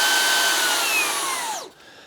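A Levoit Vortex IQ Pro cordless vacuum cleaner runs with a loud, steady high-pitched whine and airy rush, then its pitch sweeps downward as the motor spins down to a quieter hum.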